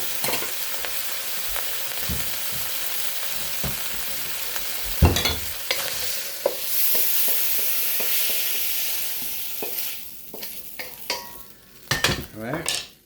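Lo mein ingredients with roast pork, shrimp and oyster sauce are sautéed in a hot pan with a loud, close sizzle. Repeated spatula scrapes and clanks against the metal cut through, more clattery near the end.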